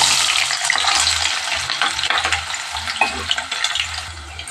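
Onions fry in a pan with whole spices for tomato rice, giving a dense, close hiss with rhythmic scraping strokes from stirring throughout, no voices.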